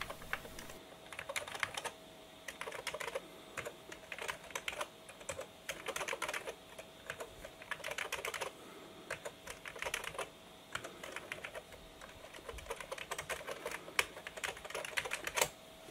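Steady computer keyboard typing on a 486 PC, dense rapid clacking of keys, close and moderately loud, no voices.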